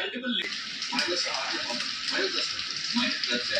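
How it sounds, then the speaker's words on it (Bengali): Boiled eggs fry in a spiced masala in the pan, giving a steady, dense sizzle that continues throughout, with a voice faintly underneath. "এখন এখানে ডিম কষানো চলছে।"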